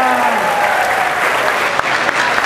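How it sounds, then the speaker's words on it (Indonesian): Steady, dense applause from a seminar audience, continuous clapping filling the room at a fairly loud level, with a faint voice or tone briefly audible at the start. "Tepuk tangan buat kita semua."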